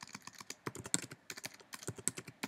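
Rapid, irregular keystrokes clatter on a computer keyboard while someone codes a Minecraft mod, with no talk, just dense clicking bursts and brief pauses in between.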